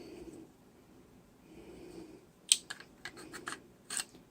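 A cassette tape is pushed into a Walmart reissue G1 Soundwave transformer toy, making a quick run of sharp, close plastic clicks and snaps after a quiet stretch, with no talking.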